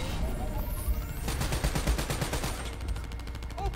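Automatic gunfire in Black Ops 3, a loud, fast rattling burst that rises midway and continues in steady rapid pulses over a constant noisy game background.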